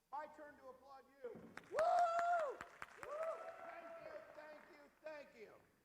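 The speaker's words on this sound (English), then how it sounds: "My turn to applaud you." An audience at a robot-building competition claps and cheers in a brief, swelling burst beneath a loud announcer's voice, with scattered whoops, then the applause fades as he keeps talking.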